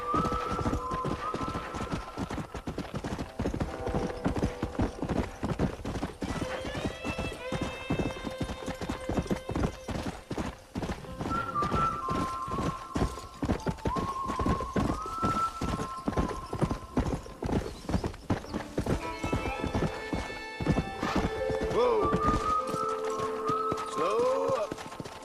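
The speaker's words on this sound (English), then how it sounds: "This here's an all-terrain horse." A horse in Red Dead Redemption gallops with rapid, continuous clip-clop hoofbeats, rising whinnies and neighs breaking through at intervals over game music.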